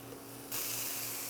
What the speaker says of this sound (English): my olive oil spray, and then I'm gonna flip them over